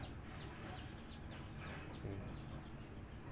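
Chickens cluck softly over a steady background hiss, with scattered bird chirps mixed in; the calls are faint and somewhat distant.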